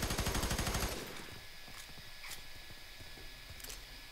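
A rapid, loud burst of machine gun fire from the video game F.E.A.R. 3 fills the first second, then drops to quieter game ambience with a few scattered clicks and thuds.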